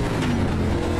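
An ARCA Menards Chevy stock car in iRacing at Daytona strains at high revs, a dense, steady engine drone with a rough, overstressed edge, loud and close for a brief moment with no talk.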